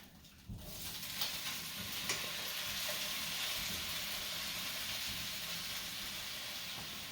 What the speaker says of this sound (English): Now I'm going to add my shrimp.